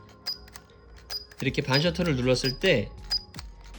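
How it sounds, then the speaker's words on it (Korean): A Fujica Auto 7 film camera gives small, faint clicks as its shutter button is half-pressed, scattered before and after a stretch where someone talks over them. "이게 반 셔터를 이렇게 눌렀을 때"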